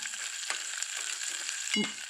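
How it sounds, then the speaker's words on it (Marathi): Spices including Byadgi chili and fenugreek seeds sizzle in hot oil with a steady, close crackling hiss, and a brief louder burst near the end as something is stirred in. "ही खमंग अशी फोडणी आपल्याला परतून घ्यायची आहे"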